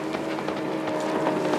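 A racing boat powered by a Mercury Pro XS outboard engine runs at speed in a 1800 mono class Gold Cup race at Paynesville, giving a steady, loud engine roar with wind buffeting.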